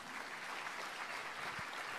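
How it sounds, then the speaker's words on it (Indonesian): Applause from a church service audience fills the space as a dense, steady wash of clapping, moderately faint and without pause. "berikan tepuk tangan yang lebih meriah lagi"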